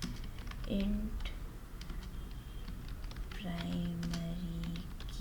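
Keys clatter on a computer keyboard in soft, irregular bursts of typing, close and quiet, under a voice talking.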